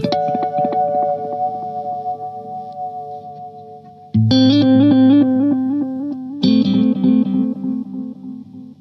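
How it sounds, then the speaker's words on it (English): Electric guitar chords ring through a long delay, repeats trailing and stacking into a dense, echoing wash that lingers for seconds. "this is a long delay now, then, for you."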